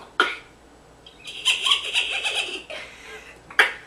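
Human voices imitate gulls and vultures with a few short squawks and a longer wavering cry, performed close and alone in a quiet room.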